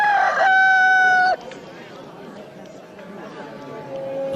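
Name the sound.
rooster crowing in a film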